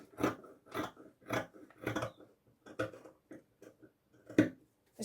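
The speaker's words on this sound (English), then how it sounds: "I'm just about to make the first cut" Scissors make the first cuts into a children's quilt, giving about eight sharp, close snips in a steady, slightly irregular rhythm, with brief pauses between strokes and no talking.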